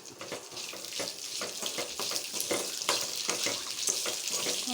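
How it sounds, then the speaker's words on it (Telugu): Green chilies, dried red chilies and a sprig of curry leaves dropped into heated oil for a tomato-coriander chutney, crackling and spattering in bursts with stirring scrapes, close and moderately loud. "ఆయిల్ హీట్ చేశాను ఇప్పుడు వేస్తున్నాను ఇట్లా పచ్చిమిర్చి ఎండుమిర్చి ఒక రెమ్మ కరివేపాకు"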